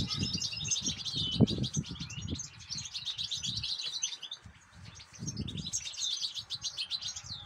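Goldfinch chicks in a nest chirp in rapid, high, overlapping bursts, with cooing doves and low rustling or wing flaps underneath.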